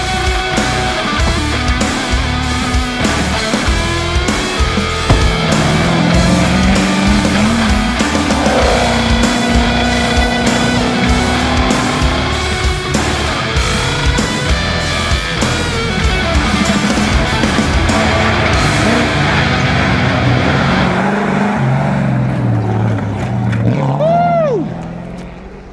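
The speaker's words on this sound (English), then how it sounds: "We're gonna jump in the new Ford Bronco." A new 2021 Ford Bronco on a ride, its engine and road noise roaring loud and steady throughout, with some rising whines and voices mixed in before it winds down at the end.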